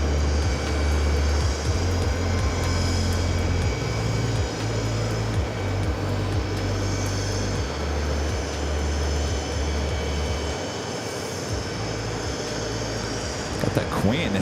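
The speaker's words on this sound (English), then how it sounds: "We have Shamrock A330 up next arrival" An Aer Lingus Airbus A330 arriving at JFK, heard as a loud sustained jet rumble with a deep low drone that eases off partway through, with voices faintly present underneath.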